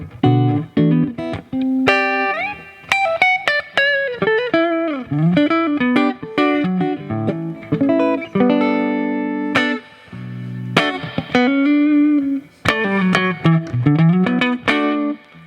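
A Strandberg Boden Standard 6 electric guitar with stock pickups plays a melodic run of notes and chords through an amp with a little EQ, a touch of reverb and slight grit, no voices.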